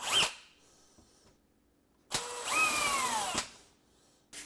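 A drill pre-drills holes in maple hardwood Shaker cabinet doors: a quick, close burst, then a pause and a longer run of about a second whose whine climbs in pitch before stopping abruptly.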